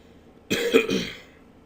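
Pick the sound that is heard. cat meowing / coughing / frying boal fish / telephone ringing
coughing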